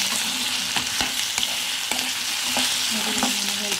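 Ginger garlic paste sizzling and frying in a pan, a steady crackle broken by repeated scraping knocks of a spoon stirring against the metal, close and without talk.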